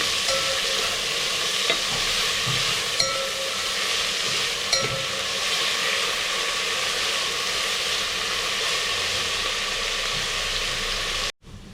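Onions frying in a pan and stirred until brown while cooking chicken biryani, a steady close sizzle with soft scraping stir strokes throughout, no voices, cutting off abruptly at the end.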